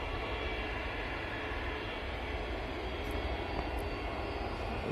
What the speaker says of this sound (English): just taken off was the EasyJet